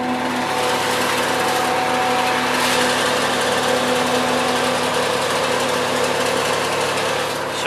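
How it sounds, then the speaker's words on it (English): A portable generator runs steadily while charging a van's house and engine batteries, a constant loud engine drone with a hum and no pauses, and nobody talks. "generator"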